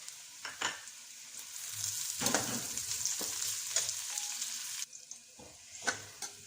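Green chillies dropped into a pan of fried onions sizzle steadily, with stirring scrapes and clatters breaking through the frying hiss, close and fairly quiet.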